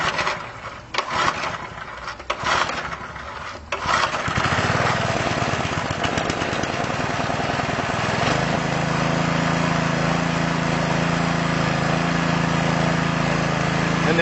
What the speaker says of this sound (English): So let's go ahead and put it in choke and try to start it up.